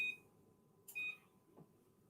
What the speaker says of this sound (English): And I'm going to set my timer for 20 minutes.